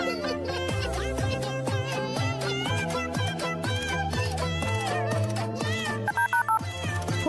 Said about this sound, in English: Poor Dad Cat called the ambulance